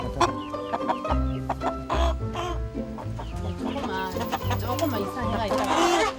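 Fighting roosters (game fowl) being moved next door during construction cluck and squawk steadily and close by, with a person talking gently to them over the birds.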